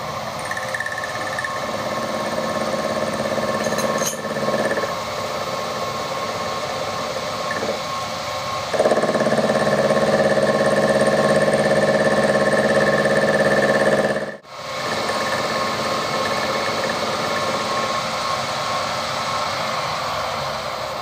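A lathe machines a small step on the end of a camera lens mount, a loud steady mechanical drone with a whining cutting tone that rises midway, then briefly drops out before continuing.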